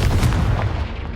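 Explosive blasting spell boom from the Hogwarts Legacy video game, a loud, dense low rumble that holds steady for about a second, with a burst near the start.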